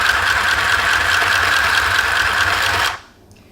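A mini sewing machine runs with a fast, even mechanical whir close by for about three seconds, then stops abruptly, leaving near silence.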